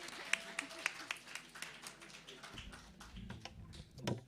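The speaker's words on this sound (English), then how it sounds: "Clap for yourself." At a live-streamed talk, audience members clap for themselves with scattered, quiet hand claps, some sharp individual claps standing out, while voices murmur underneath.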